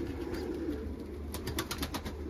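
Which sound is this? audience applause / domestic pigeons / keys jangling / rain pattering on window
domestic pigeons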